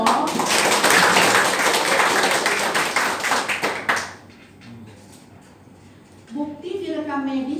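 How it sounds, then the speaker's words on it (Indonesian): Hospital accreditation meeting audience claps hands together for about four seconds, a dense close burst of applause that stops abruptly, followed by quiet room tone and then talk. "Tepuk tangan dong."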